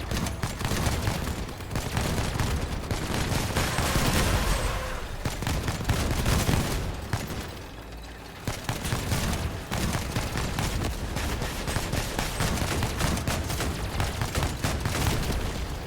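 Rockets and machine guns fire in the vehicle combat game Crossout, a dense, loud barrage of rapid gunfire bursts and booming explosions, nearly continuous with a brief lull midway.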